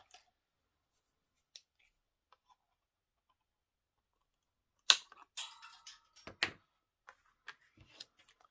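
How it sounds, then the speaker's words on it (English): A thin acetate sheet is cut for a handmade papercraft card. After near silence come a few quiet, close snips and crisp clicks in a short cluster. "So I'll need to cut off some of my acetate."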